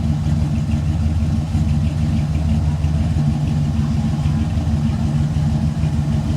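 A classic car's engine idling steadily after being started, a close, continuous low rumble with a slightly uneven chug and faint voices in the background.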